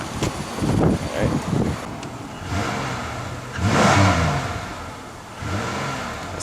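A Pontiac 3800 V6 revs in a few rising surges with pauses between them, a fairly loud engine sound heard up close.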